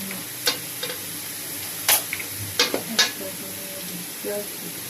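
Chicken korma masala paste fries in oil with a low, steady sizzle. Sharp spoon clacks and scrapes against the pot break in a few times, and a voice speaks briefly in the background.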